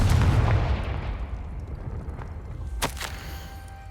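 In Hogwarts Legacy, the Confringo explosive spell goes off with a heavy blast that fades into a rumbling tail, then a second sharp burst cracks out near the end.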